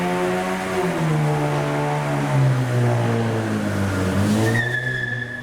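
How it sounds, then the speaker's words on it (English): A Mercedes E55 revs at a car meet, its engine note rising and falling in long sustained pulls, loud and fairly close, with no talk over it. "The E55 is revving behind me"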